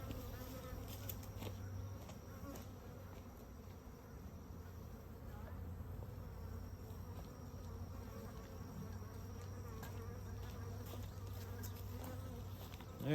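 Honeybees buzz steadily and continuously while mini mating nucs are being stocked, a dense, even hum close to the listener with no speech over it.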